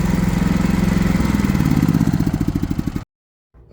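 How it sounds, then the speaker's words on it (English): RV generator engine running steadily with a close, loud, chugging mechanical drone, then cutting off abruptly into silence just before the end. "then I can turn off the generator"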